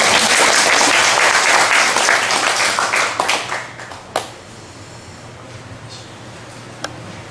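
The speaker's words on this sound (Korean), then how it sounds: "박수합시다" A congregation at a Korean church service applauds in a loud burst of dense clapping that thins out over a few seconds, leaving scattered single claps before falling quiet.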